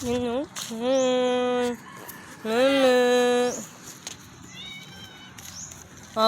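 Several drawn-out meows from a cat, loud and close, with pauses between them and faint background noise.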